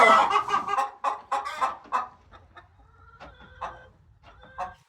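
Laying hens cluck and chatter close by on a family farm with mobile coops, a busy burst of overlapping calls that settles into sparser, softer clucks with a low wind rumble underneath.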